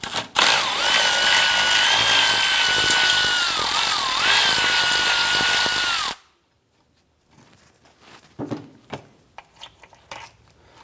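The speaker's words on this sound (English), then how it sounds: "Go ahead and use a 10mm socket to remove this bolt." A power tool whirs loudly and continuously for about six seconds, pitch dipping under load, as a 10mm socket drives out a radiator fan bolt, then stops, leaving faint clicks and metallic handling.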